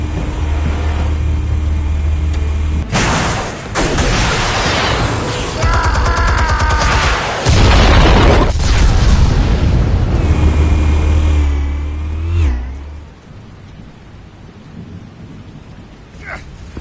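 Explosives go off in Batman: The Telltale Series, with two heavy, booming blasts a few seconds apart that rumble and crackle over constant game background noise.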